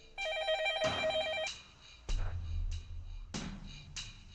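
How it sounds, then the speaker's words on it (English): A telephone rings in the Fate/Stay Night visual novel: a synthetic electronic trill in two bursts, then a few sharp clicks and thumps. No one speaks. "The phone rings."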